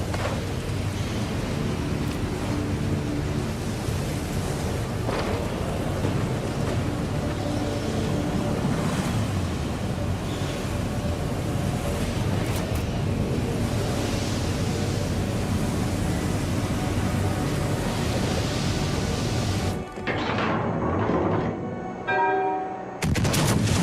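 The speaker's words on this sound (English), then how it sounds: "Enemy destroyer blown up" An enemy destroyer in a naval video game blows up under gunfire as a dense, continuous roar of explosions and shooting over rushing water, loud throughout, breaking up and dropping away near the end.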